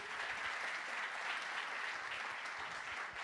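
Worshippers at an evening church service break into sustained applause, a full, even roar of many clapping hands filling the room at moderate volume from start to finish.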